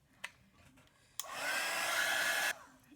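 A hair dryer blows on a sparkly December Daily craft cover, switching on with a click and running loud and steady for over a second before cutting off, with a few light taps around it.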